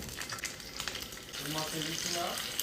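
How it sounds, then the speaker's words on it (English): Crackling, sizzling chicken drumsticks browning in oil in a hot pan, continuous and close, with faint voices or tones in the background. "And we're just gonna start browning off our chicken."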